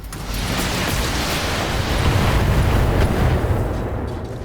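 Weapon fire in the BattleTech video game as a mech shoots medium lasers, heard as a continuous loud roaring blast that swells and holds for a few seconds, with no talk over it.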